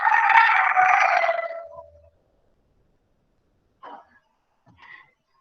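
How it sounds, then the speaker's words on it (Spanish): A pet rooster named Claudio crows close by. A single loud, drawn-out call fills the first two seconds and then tails off, followed by two brief faint clucks after a silence. "Perdón si se oye el gallo, lo siento, es mi gallo que se llama Claudio."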